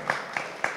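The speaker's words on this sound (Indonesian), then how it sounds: "tepuk tangan untuk kita semua" An audience at an anniversary celebration for Yogyakarta's public service mall gives brief, faint applause, heard as three evenly spaced clap bursts.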